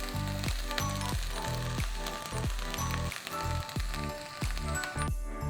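Kerala ottada batter in leaves cooks on a hot pan, a steady close sizzle with crackling pops and rhythmic bursts, like rain on a surface.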